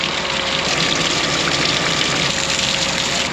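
Water gushes from a drained farm sprayer tank straight onto the ground, a steady, loud, broadband rush with a faint engine or pump hum beneath, running continuously without pause and with no talk.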